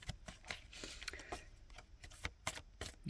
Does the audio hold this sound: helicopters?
no